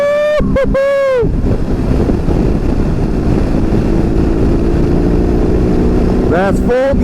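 A BMW R 18 B bagger motorcycle at full throttle, a loud steady engine roar buried in heavy wind rush, with brief whoops of a rider's voice at the start and end.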